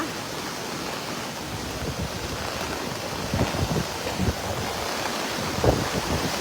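Floodwaters rushing down a street in Lemery, Batangas after a typhoon, a steady broad roar of churning water with gusty rumbles and occasional louder surges, constant and close with no talk.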